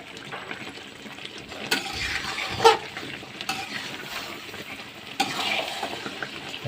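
Raw mango pickle is stirred in a pan, with soft scraping, wet sizzling and occasional sharp knocks of a spoon against the metal. The sounds are close and moderately loud, with no talk.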